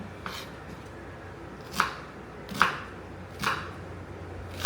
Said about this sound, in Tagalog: habang naghihiwa kayo ng sibuyas